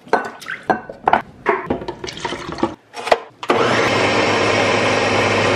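A countertop blender whirs loudly and steadily, blending banana and other ingredients into a smoothie, starting abruptly after a few seconds of clinking and tapping as the jar is loaded and assembled.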